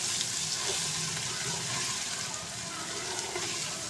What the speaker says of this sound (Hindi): अब इसको हम अच्छे तरीके से मिक्स करके चिकन के साथ सारी चीज़ों को फ्राई करेंगे।